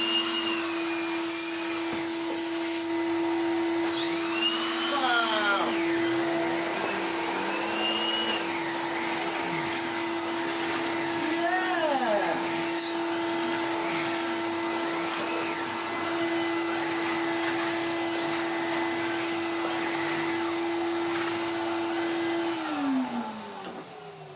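A Numatic BX190 vacuum cleaner with an air leak runs steadily with a loud, constant motor whine and airy rush, shifting pitch slightly, then winding down near the end.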